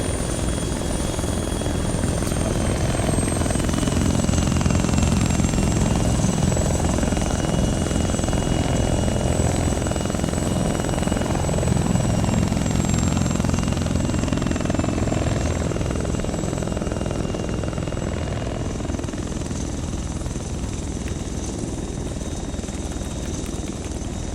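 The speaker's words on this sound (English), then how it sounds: "The Mohawk is a really good heli still." A Mohawk helicopter flies in the video game Arma 3, with a loud, continuous rotor and turbine drone and a thin high whine running steadily through.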